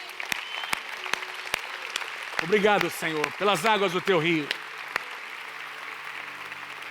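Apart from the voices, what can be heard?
congregation applauding in church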